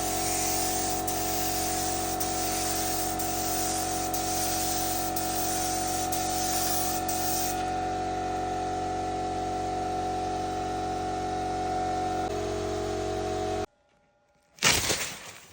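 Spray gun laying lacquer over a silver car paint spot repair, a steady hiss of compressed air running continuously and fairly close before it cuts off near the end, followed by a brief clatter.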